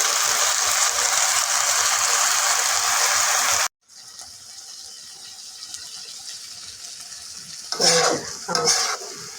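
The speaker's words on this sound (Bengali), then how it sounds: "পুঁই শাকের বিচি ভাজি হচ্ছে।" Malabar spinach seeds stir-fry in a pan with a loud, steady sizzle. The sizzle cuts off abruptly and gives way to a quieter hiss, then a few clattering stirring scrapes near the end.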